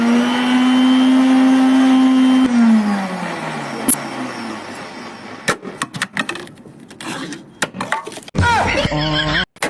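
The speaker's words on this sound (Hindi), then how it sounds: "अब चला के देखो, तुम्हारा मिक्सर एकदम बढ़िया सही हो गया है।" A kitchen mixer grinder runs with a loud, steady motor whine that winds down, then rattles and clatters before starting again harshly.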